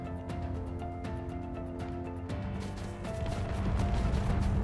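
Video game battle noise with a low rumbling bed, sharp impacts and booming explosions repeating over steady tonal music, dense and continuous throughout.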